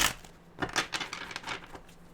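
Tarot cards being shuffled by hand, a run of soft papery riffles and flicks in quick uneven bursts, close and fairly quiet, with no talking.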